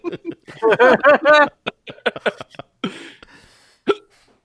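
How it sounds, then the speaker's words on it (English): A person hiccups several times in quick, uneven bursts, loud and close, with voiced vocal sounds in between, heard during a screening of the Mortal Kombat movie. "the hiccups"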